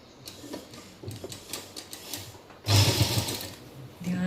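Close, rapid whirring of a sewing machine stitching along the edge of a plazo waistband comes in a loud burst after quieter ticking and fabric handling.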